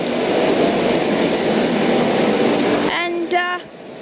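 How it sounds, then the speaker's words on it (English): A Sydney Trains Tangara train at a station platform, a steady loud rumble of the train with rail noise that drops away near the end, followed by a brief high squeal or tone. "We have a Tangara."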